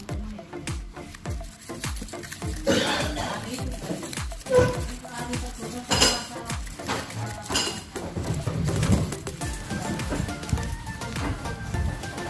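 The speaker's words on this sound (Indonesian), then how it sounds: "kita larutkan dalam air, diaduk dengan sendok plastik" A plastic spoon clinks and scrapes repeatedly against a container while a chemistry solution is stirred in water, with a brief voice audible at times.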